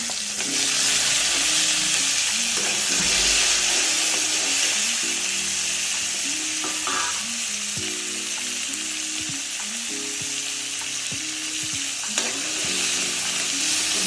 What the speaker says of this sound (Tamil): கூட கொஞ்சமாக கல்லுப்பு போட்டு வதக்கிடுங்க